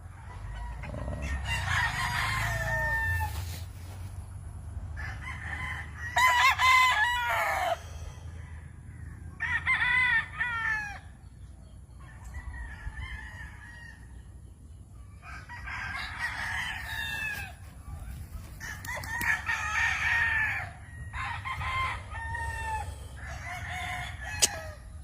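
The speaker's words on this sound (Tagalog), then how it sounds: "Live sa ating manukan." Chickens and roosters crow loudly and close by at a large poultry farm in Misamis Oriental, Philippines, with long drawn-out crows repeating one after another over a low background hum.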